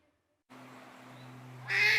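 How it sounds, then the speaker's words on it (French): A duck quacks, heard as the sound to identify in an animal-call guessing game: a steady low tone plays first, then a short, loud, nasal quack arrives near the end. "le cri du canard, ça s'appelle le cancan"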